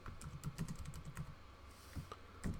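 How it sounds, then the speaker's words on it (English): Rapid clicking keystrokes on a computer keyboard run in a steady, fairly close stream with small pauses and a couple of louder taps near the end; no one speaks. "So I'm going to type my link now"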